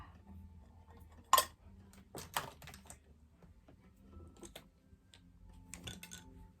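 Nivea cream being stirred in a small bowl: faint, sparse clicks and taps of a utensil against the bowl, with a few sharper knocks, close by and otherwise quiet.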